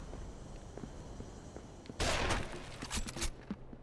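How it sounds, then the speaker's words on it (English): A loud, close sniper rifle shot from the video game Rainbow Six Vegas cracks out about halfway through, followed by a few sharper reports and tails over quiet background game ambience. "I heard a sniper go off."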